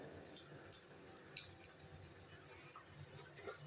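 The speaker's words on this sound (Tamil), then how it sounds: "கடுகு பொரியுது" Mustard seeds spluttering in hot oil with chana dal while tempering for a banana-flower kootu, giving a handful of sharp, scattered pops and crackles, a few loud near bursts early that then thin out into fainter ticks.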